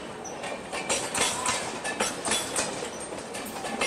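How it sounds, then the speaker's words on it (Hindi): Ernakulam–Tatanagar Express rolling past a platform at sunset, a steady loud rumble of coaches with rhythmic clickety-clack from the wheels over rail joints, continuous throughout with no talking. "ये आ गई भाई साहब एर्नाकुलम टाटानगर एक्सप्रेस।"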